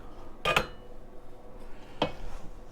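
A bench scraper knocks and scrapes against a spoon over a bowl of pan pizza dough, two short metallic clinks about a second and a half apart against a quiet kitchen background.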